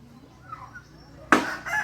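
Quiet background, then a rooster crows abruptly and loudly nearby near the end, a harsh broken call.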